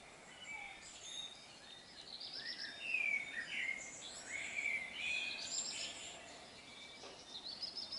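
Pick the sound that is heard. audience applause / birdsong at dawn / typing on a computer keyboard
birdsong at dawn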